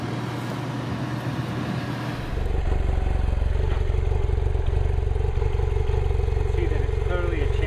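A chain-drive BMW F800GS motorcycle engine fires up after a couple of seconds of background noise, then idles loudly and evenly close by.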